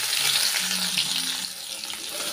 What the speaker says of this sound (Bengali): একই তেলের মধ্যে দেব কালো জিরে ফোড়ন 1/2 চামচ, দিয়ে দেব একটা ছোট সাইজের পেঁয়াজ কুচি।